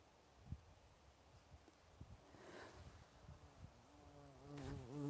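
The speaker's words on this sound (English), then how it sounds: "I just got buzzed by a bumblebee." A bumblebee buzzes past outdoors near sheep in a field, its faint drone rising and swelling as it flies close, then fading, over soft rustling and quiet background ambience.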